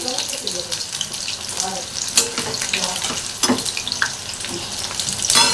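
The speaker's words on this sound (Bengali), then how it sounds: "এবার পকোড়াগুলোকে পাল্টি করে দেবো। এক পিঠ হয়ে গেছে অলরেডি।" Pakoras frying in oil in a small kadai, one side already cooked, giving a steady close sizzle and crackle with a few brief clinks and stirring noises.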